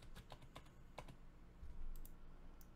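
Keyboard typing: a handful of sharp, separate key clicks in an irregular rhythm, close and fairly clear, then a brief lull before a few more taps near the end, with no voices.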